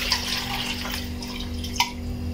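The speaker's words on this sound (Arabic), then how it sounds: "وغادي نضيفو عليه الماء البارد" Cold water pours into a blender with ground oranges for fresh juice, a continuous close splashing stream with a brief bright splash near the end, no voices.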